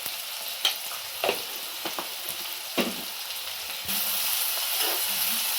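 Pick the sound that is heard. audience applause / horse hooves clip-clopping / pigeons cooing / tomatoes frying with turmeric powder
tomatoes frying with turmeric powder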